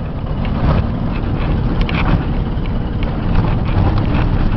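Ford F700 stake body truck with cage and power liftgate, engine running on country roads, a steady loud low rumble with wind buffeting the microphone, continuous and close, with no voices.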